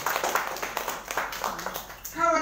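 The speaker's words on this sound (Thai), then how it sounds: "พี่น้องปรบมือให้กับพระคำพระเจ้าด้วยกัน" A church congregation claps together during a Thai sermon, a steady run of close, moderately loud hand claps, with a voice coming in near the end.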